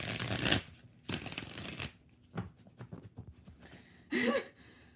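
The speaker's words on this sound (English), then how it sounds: "4 shuffles" Tarot cards shuffled by hand in several separate bursts of riffling, close and crisp, with short quiet gaps between them and a faint breath at the end.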